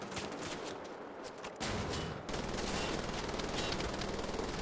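Rapid gunfire from a mounted gun in the video game Wolfenstein: The Old Blood, a dense, loud continuous burst that intensifies partway through.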